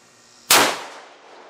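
A single sharp, loud rifle shot from a CVA Scout chambered in 35 Whelen, firing a 250-grain Remington load over a chronograph outdoors, with a sudden blast that decays into a long reverberating tail.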